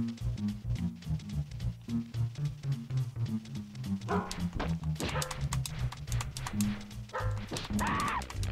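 Cartoon dogs bark and yip repeatedly over a busy, loud music track, several dogs yapping in quick overlapping bursts toward the end.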